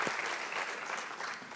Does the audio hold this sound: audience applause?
yes